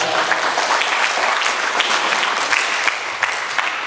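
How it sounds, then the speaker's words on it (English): Dense, continuous applause from a crowd at a reunion ceremony, loud and even throughout with no speech over it. "I think we give a round of applause for him on that"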